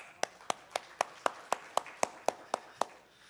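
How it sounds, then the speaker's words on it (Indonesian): A church congregation claps in unison after a service: eleven crisp, evenly spaced claps about a quarter second apart, sharp and close, then stopping. "Tepuk tangan."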